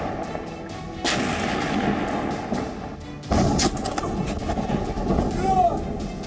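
Gunfire and artillery shelling in Ukraine: heavy booming blasts, one near the start and a louder one after three seconds, each followed by a long rumbling roar, with a brief whistling tone near the end.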